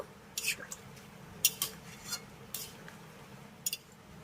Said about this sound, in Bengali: এবার আমি কুমড়ো আর আলুর ভিতরে দিয়ে দেবো এক কাপ মতো গরম জল ভালো করে একবার মিশিয়ে দেব